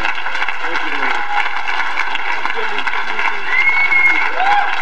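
An audience claps for four people at a dental training event, a dense even wash of applause filling the room, with a few cheers or whistles rising near the end.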